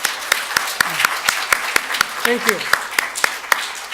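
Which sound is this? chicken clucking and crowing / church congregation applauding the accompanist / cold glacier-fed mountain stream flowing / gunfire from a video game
church congregation applauding the accompanist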